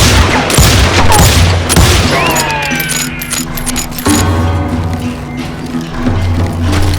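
Rapid gunshots from a Wild West shootout in the Call of Juarez Gunslinger video game, loud overlapping bangs and a ricochet-like whine amid a dense, busy game soundscape.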